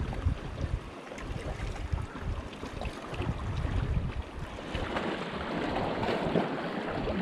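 Steady blustery wind roaring across an open microphone during light-tackle sea fishing, with broadband rushing noise that swells slightly toward the end, no voices.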